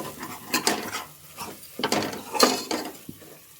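Chicken, onion and turmeric stirred in a cooking pot for village-style country chicken curry: a spoon scrapes and knocks against the metal in irregular, close clattering strokes with quiet pauses between.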